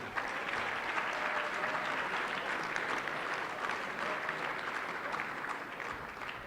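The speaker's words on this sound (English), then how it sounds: "One more round of applause for our swimming honorees." Sustained clapping from the crowd at an annual sports awards ceremony honors swimmers, an even, dense patter of many hands lasting several seconds without voices.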